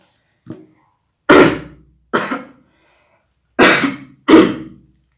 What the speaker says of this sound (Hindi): सॉरी, थोड़ी सी खांसी है।